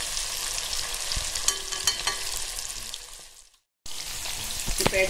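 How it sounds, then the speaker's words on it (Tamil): Prawns frying in a pan for a crispy prawn fry, a dense steady sizzle with crackles and pops, close and loud, cutting out briefly before resuming, no talk. "நல்லா ஃப்ரை ஆயிடுச்சு பாருங்க."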